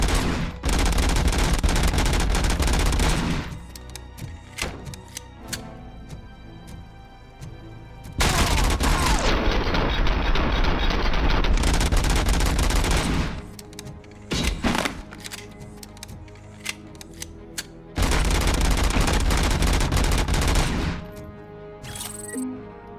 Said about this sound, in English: Here we have a 50 caliber sniper rifle.